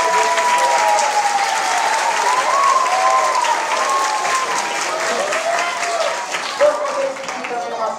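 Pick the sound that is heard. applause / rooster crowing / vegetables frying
applause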